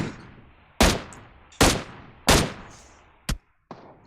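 Four or five sharp, isolated gunshots from a long-range firefight in PUBG Mobile, each loud crack decaying quickly, spaced under a second apart over a quiet background.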